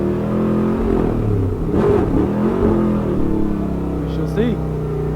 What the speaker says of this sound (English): rolling up, doing our burnout